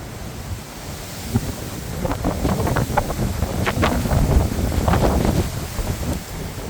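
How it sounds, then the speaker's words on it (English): Strong wind blows and buffets the microphone continuously at a memorial park in Hollywood, California, with a broad rushing roar that swells in the middle and eases slightly toward the end. "It's a little windy."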